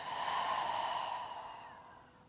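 One long, deep exhale, a breathy rush that starts strong and fades slowly during a gentle morning yoga breathing exercise, with no talk over it.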